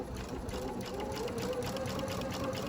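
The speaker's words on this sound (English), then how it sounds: "And now let's sew." A sewing machine runs steadily at close range, stitching fabric along a projected grid line with a continuous, even mechanical whir.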